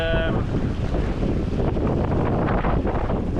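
Strong wind roars across the microphone around a sailboat in big 2 to 2.5 meter waves, a dense, constant wash of noise with the sea surging beneath, loud and unbroken.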